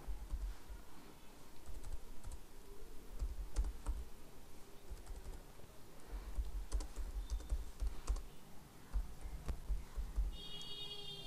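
Steady typing on a computer keyboard while entering text into a small Adobe PageMaker text box, a continuous stream of close, fairly quiet key clicks with occasional heavier strokes and no talking.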